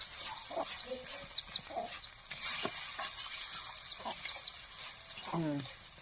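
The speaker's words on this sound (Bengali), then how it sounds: "নুন দিয়ে দিলাম, দিয়ে এবার এটা ভেজে নিই ভালো করে" Spice paste with salt frying in a pan over a village kitchen fire in rural Odisha, with a steady sizzle, scraping stirs and a person talking over it, plus a brief animal call near the end.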